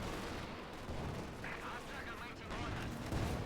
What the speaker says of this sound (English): these 2 Panzerwerfers, and they are ready to fire again